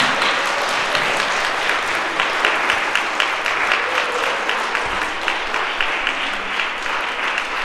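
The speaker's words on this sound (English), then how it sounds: "let's give them the resounding round of applause that they deserve." A school Thanksgiving assembly audience claps in warm, sustained applause. The dense, even clapping carries at a steady level for nearly eight seconds with no voices over it.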